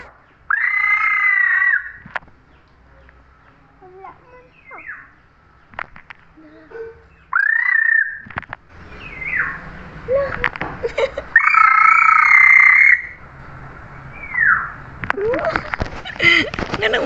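A bird calls in repeated harsh, croaking bursts outdoors on a trip to Santander, loud and near, with quieter gaps and rustling between calls.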